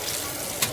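A yogurt machine tray is rinsed under a running tap, giving a short burst of close, hissing water spatter with a brief splash near the end.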